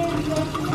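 Water running steadily from a hose or tap while new plants on a front porch are watered, a continuous close splashing hiss.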